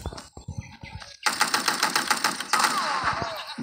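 Rapid gunfire from the shooter video game Guns of Boom, a dense rattling stream of shots with sharp clicks that starts after a second of quieter game sounds and continues to the end.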